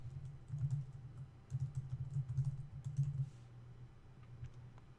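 Someone typing on a computer keyboard nearby, soft rapid clicking keystrokes in several quick bursts separated by brief pauses, over a low steady hum, no talking.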